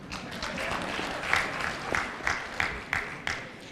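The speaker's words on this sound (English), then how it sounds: "Clap for government." Conference audience applause for the government at the AFREhealth annual health conference in Uganda: scattered claps building into rhythmic bursts of clapping from a crowd in a hall.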